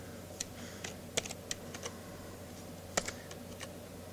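Scattered keystrokes on a computer keyboard, light irregular clicks with occasional sharper taps, over a constant low hum of a quiet room.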